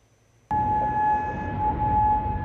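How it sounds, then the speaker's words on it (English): A sustained, high wailing alarm siren sounds suddenly across Kuwait City and holds steady, loud and continuous, over a rough background rumble. "Sirens blare across Kuwait City early Sunday"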